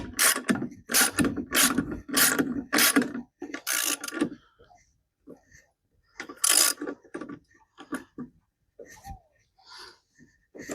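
A hand ratchet cranks a bolt out while a spare tire carrier is being built. It gives rapid close clicking strokes in bursts, then pauses with scattered softer clicks, and a voice speaks briefly.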